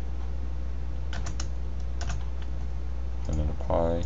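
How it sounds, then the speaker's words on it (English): Keys tapped on a computer keyboard while modeling in Autodesk Maya, a few scattered quiet clicks over steady background hum, with a voice starting to speak near the end. "I'm just going to type in..."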